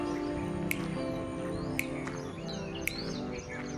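Several short bird chirps ring out at intervals in the morning air near a seaside resort on the Devgad coast, set over a steady low hum of background ambience.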